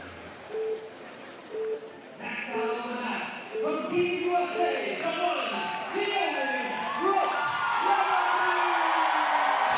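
Crowd at a women's bouldering semi-final in Salt Lake City cheers and whoops, the roar building steadily and staying loud and dense to the end, with voices and excited shouts mixed in.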